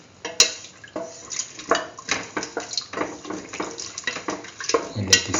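Metal spoon stirring turmeric powder and water in a pressure cooker pot, giving a steady run of light scraping clinks and sloshing close by, with a few sharper knocks against the rim.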